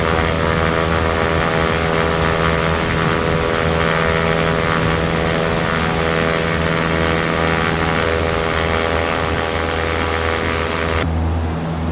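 A Cessna 172 engine cruising in flight in X-Plane 11 near South Kansas City, a loud, steady droning hum with a constant pitch that runs unbroken and thins out sharply near the end.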